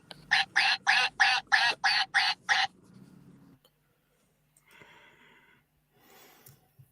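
Ducks let out a rapid, evenly spaced burst of eight loud quacks, followed by quieter snorting and rustling sounds and then near silence.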